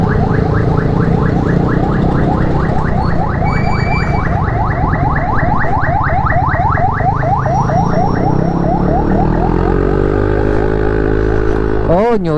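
A loud emergency vehicle siren wails in rapid repeating sweeps, then changes to a slower, lower tone as the vehicle passes. The siren is very close and dominates the scene.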